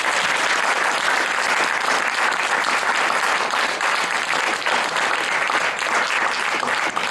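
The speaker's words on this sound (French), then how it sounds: "Je vous demande d'applaudir" An audience at a music masterclass breaks into dense, sustained applause, a steady roar of many hands clapping without a pause and with no talking over it.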